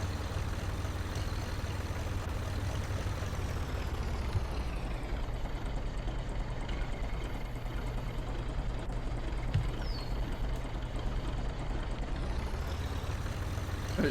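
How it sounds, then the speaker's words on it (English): A tractor engine in the farming video game Professional Farmer 2014 runs steadily with a low, rumbling, slightly uneven idle, continuous and close, with no talking. "This tractor almost sounds like it's going to stop running"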